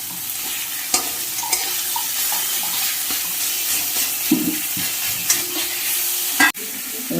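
Raw banana kofta masala with salt is sautéed in a pan, a close, loud stir-fry of scraping spatula strokes over a constant sizzle, with several sharp knocks and a clatter near the end.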